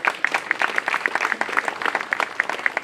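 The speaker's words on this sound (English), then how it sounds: "May we kindly give them a round of applause." A small audience claps at an official ceremony marking the appointment of a new deputy foreign affairs minister, giving a steady patter of hand claps close by and moderately loud, with no talk over it.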